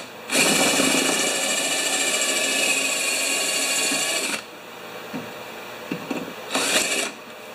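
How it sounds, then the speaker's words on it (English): A power drill bores out rivets on a Kia Soul door panel, whining steadily and loudly for about four seconds, then falling quiet before a second short burst of drilling. "I'm just going to drill out the rest of these rivets"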